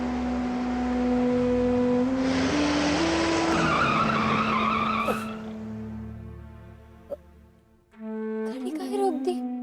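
A car skids to a halt with its tires squealing as it brakes, loud and close, its engine tone sliding down before the stop, then quieter idling under music.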